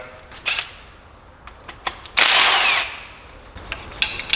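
Bolts are worked loose on the pump of a BMW S54 engine, giving sharp metallic clicks and clanks, followed by a longer rasping ratchet-like burst near the middle, close up and otherwise quiet.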